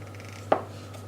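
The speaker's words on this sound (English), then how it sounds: "Chop that in half" A single close, crisp knife chop slices through a piece of white cookie dough on a cutting board, one short sharp knock in an otherwise quiet kitchen.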